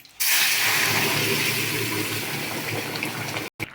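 Boiled potatoes and peas are poured into a hot pan tempered with asafoetida, dried red chilli and cumin, setting off a loud, sudden sizzle that holds steady for about three seconds before cutting out.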